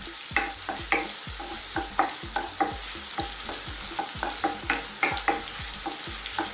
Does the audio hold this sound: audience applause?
no